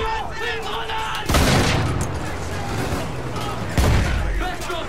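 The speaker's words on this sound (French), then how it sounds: "Attention, c'est une grenade." Grenade explosions in the Battlefield 1 campaign: two heavy booms with broadband blasts and rumbling tails, set among distant gunfire and battle noise, with voices speaking over the combat.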